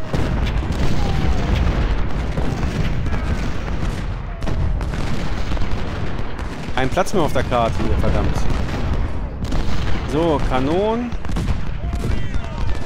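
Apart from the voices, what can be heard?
cannons firing in video game Ultimate General: Civil War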